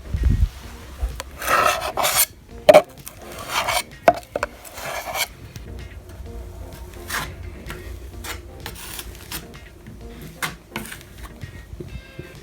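Drywall knife spreading extra-thick joint compound over tape on a small patch where an old outlet was, giving repeated rasping scrapes in uneven strokes, louder early and softer strokes later, close and alone.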